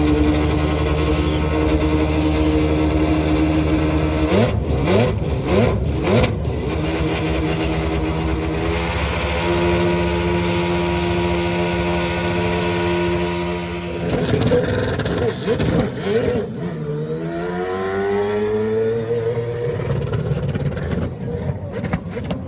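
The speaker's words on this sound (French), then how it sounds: "ce V12 Honda" A Honda V12 Formula 1 car at a historic French Grand Prix meeting fires up and revs hard, loud and close, with sharp throttle blips and rising, falling engine sweeps over a steady idle.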